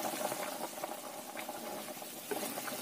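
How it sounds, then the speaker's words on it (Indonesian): Chicken simmering in seasoned broth in a pot, a steady low bubbling and popping of boiling liquid, close and continuous, no voices. "Ini kita masak lagi sampai ayamnya ini empuk dan airnya agak asat"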